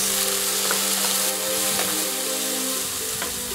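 Loud, constant sizzle of onion and pepper stir-frying in a hot pan with salt and ground pepper, with a few spatula scrapes cutting through the steady hiss.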